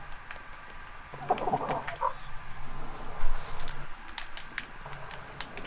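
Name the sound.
voice imitating a weird goblin gerbil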